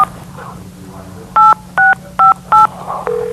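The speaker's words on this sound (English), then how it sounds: "Should we try calling back again, Mike, or don't you think he'd be there yet?" A telephone is dialed by hand with a run of four clear, evenly spaced DTMF keypad tones, then a steady line tone follows, heard close over a quiet room hum.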